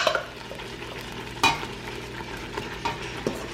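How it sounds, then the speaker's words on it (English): A curry mixture for oxtail stirred in a pan with a pot spoon, soft continuous frying sizzle broken by a few sharp scrapes and knocks of the spoon against the pan, close by and without speech. "stir it around with a pot spoon so it doesn't stick to the bottom of the pan"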